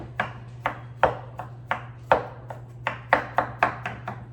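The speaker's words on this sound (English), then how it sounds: "We're gonna cut the chicken breast as far as we can to make a little pocket, and then we're just going to pound it out just a little bit." A knife and mallet work through raw chicken breast on a board, giving about a dozen sharp, close thuds at an uneven, quickening rhythm over a steady low hum, with no talking.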